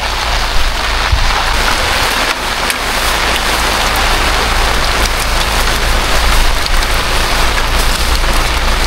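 Heavy monsoon-season rain pours down on a campsite, a dense, continuous hiss and patter on surfaces that stays loud and unbroken throughout, with no voices.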